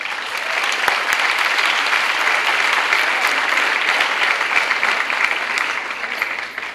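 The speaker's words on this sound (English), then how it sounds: "give yourselves a round of applause." Graduates at a 2003 Queensborough Community College commencement ceremony break into loud, sustained applause, a dense wash of clapping from a large crowd that holds steady for several seconds before beginning to fade.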